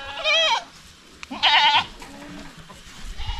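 Goats on a farm bleating nearby, two loud wavering calls a second apart with quieter rustling and background noise between them.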